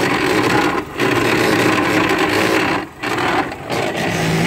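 Chrysler PT Cruiser electric radiator cooling fan scraping, a continuous harsh grinding rasp close by with two brief dips.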